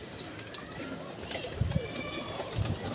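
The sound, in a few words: pigeons cooing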